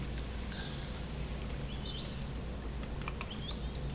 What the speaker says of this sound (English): Why am I hearing birds chirping?